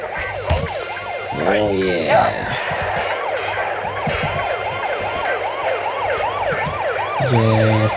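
A police siren in The Simpsons: Hit and Run wails and warbles continuously with rapid rising and falling sweeps, loud and close, mixed with game effects and brief voices.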